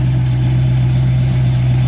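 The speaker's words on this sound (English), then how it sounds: "It's powered by a 289 two barrel V8 engine with power steering and power brakes. The engine runs great." A 1966 Ford Galaxie 500 convertible with a 289 two-barrel V8 runs at a loud, steady idle. The deep, even rumble holds constant and close, with no voices.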